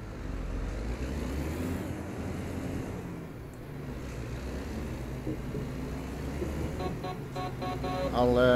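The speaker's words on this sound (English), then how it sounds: "There is something about the sound of these trucks" A truck engine drones low and steady in American Truck Simulator, a continuous rumble with road noise that swells slightly near the end, alone without talk.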